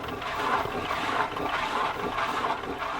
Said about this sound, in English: These runtegs can grind around 200 kilograms of grains every day purely